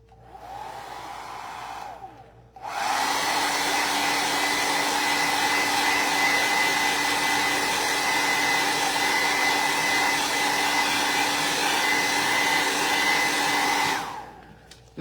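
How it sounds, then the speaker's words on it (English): A hair dryer switches on and roars steadily for about twelve seconds, loud and close, then cuts off; a softer motor whir runs before it starts. "So I'm just plugging in my hair dryer so I can blast that green."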